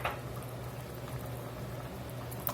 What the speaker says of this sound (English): We're going to get these tomatoes in.